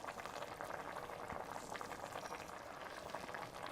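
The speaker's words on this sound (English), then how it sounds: "mine has come up to a gentle boil now." A pot of salted pasta cooking liquid bubbles at a gentle boil, a dense and continuous close-up bubbling with no voices over it.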